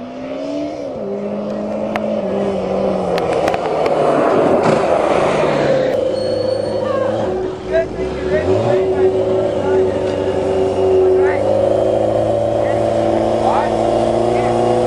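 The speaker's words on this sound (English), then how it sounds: "Was that the clutch I hear slipping?" Motorcycle-engined dune buggy driving with a slipping clutch, the engine droning loudly with rising and falling revs that flare without matching pull, while people talk over it throughout.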